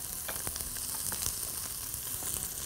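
Onion fries in oil with salt, black pepper and nutmeg, giving a dense, steady crackling sizzle with a few light clicks of stirring, close and continuous without talk.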